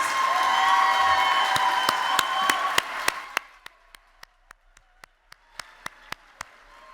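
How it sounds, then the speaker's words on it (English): Audience applause at a nursing white coat ceremony, starting as dense clapping with whoops and cheers, then thinning after a few seconds into a handful of sharp, scattered claps from a few people before fading out. "So give them a round of applause"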